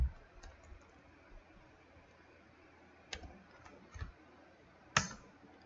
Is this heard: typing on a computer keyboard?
yes